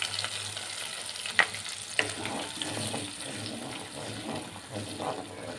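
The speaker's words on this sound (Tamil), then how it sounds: "2 நிமிஷம் கொதிக்க விடலாம்." Steady frying sizzle and bubbling from curry gravy for paneer capsicum boiling in a pan on the stove, with a couple of sharp clinks from a utensil.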